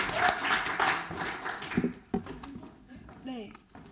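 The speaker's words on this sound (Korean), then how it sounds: "큰 박수 부탁드립니다." An audience at a TESOL graduate school orientation applauds, a dense burst of clapping that fades after about two seconds, followed by scattered sounds and a voice speaking.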